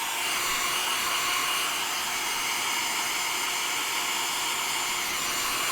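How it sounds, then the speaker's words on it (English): A blow dryer running steadily while drying chalk paint, a constant loud whooshing hum with an even airy roar, close up and alone without talk. "Ooh, that blow dryer's warm."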